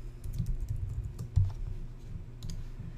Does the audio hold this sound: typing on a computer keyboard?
yes